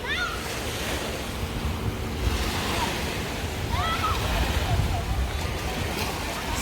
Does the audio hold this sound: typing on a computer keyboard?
no